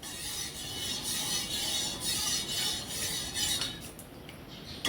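Flour being stirred with milk and a spoonful of ghee in a pan while making mohanthal, a steady scraping and clinking of a spoon against metal, then a sharp knock at the end.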